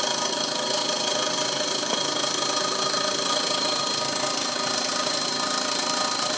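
A working model steam engine runs continuously and loudly, a steady dense mechanical chugging hiss with no pauses, close up.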